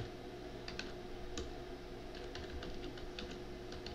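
Scattered keystrokes click on a used laptop keyboard during a key test, faint and irregular over a steady background hiss and hum, with no speech.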